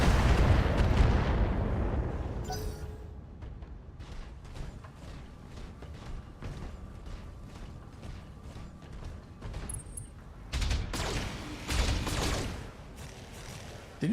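Weapons fire and explosions in the mech combat game Battletech, a loud booming blast at the start fading out, then scattered sharp shots and impacts, with another heavy rumbling burst and further hits near the end.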